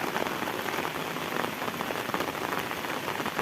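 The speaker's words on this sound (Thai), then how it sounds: "ฝนก็ตก" Steady, dense rain pattering on a surface in Sakon Nakhon, Thailand, constant and close with no pauses, nobody speaking.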